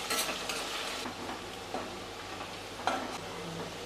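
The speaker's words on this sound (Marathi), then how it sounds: "आता हा कांदा आहे ना तर सोनेरी रंगावर आपल्याला परतून घ्यायचा आहे।" Onion sautéing in a pan for Nagpur-style Saoji chicken sukka gives a soft steady sizzle, with a few scraping stirs of a spoon, faint and close with no voices.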